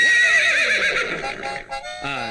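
A horse whinnies loudly and alone, a long descending neigh filling most of the moment before a brief shorter call at the end, on a private estate set aside for horse riding.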